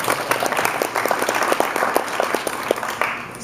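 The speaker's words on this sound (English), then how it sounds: "Everyone give him a round of applause." An audience at a talk claps in sustained applause, dense and steady throughout, moderately loud with no talking over it.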